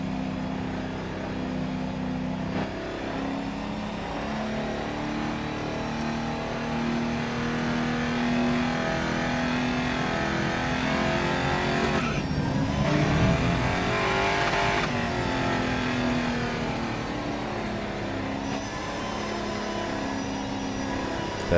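A V8 Holden race car engine in the GRID Autosport racing game, heard from the cockpit, drones steadily with rising and falling revs through gear changes and a brief surge near the middle, loud and continuous with no talk.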